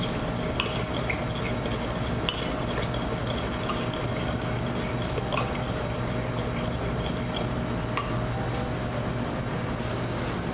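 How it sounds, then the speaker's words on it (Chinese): Spoon stirring broth with rice wine, salt and sugar in a pot, a steady scraping swirl with faint clinks of metal against the side, continuous and close, with no talking. "搅拌均匀，"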